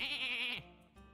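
A sheep bleat in the Hearthstone video game: a single short, loud, wavering bleat that cuts off abruptly, followed by faint game sounds.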